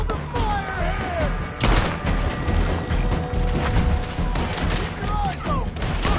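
Gunfire rings out during a shootout in the Red Dead Redemption 2 video game, with dense bursts of shots and crashes throughout and a sharp loud report near the middle, under shouted dialogue.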